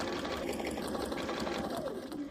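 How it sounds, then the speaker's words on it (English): A sewing machine stitches binding along the edge of a potholder, a steady close mechanical whir running without a break. "I'm going to just sew to the end"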